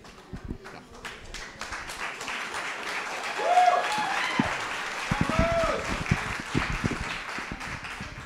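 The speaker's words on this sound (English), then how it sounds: "I would hold the applause until after I'm done." An audience applauds at a charity chef competition event as a speaker comes forward, clapping and cheering building up and continuing under raised voices and shouts near the middle.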